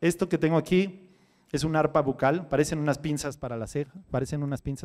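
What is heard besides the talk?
No distinct noise like a dog, phone or traffic.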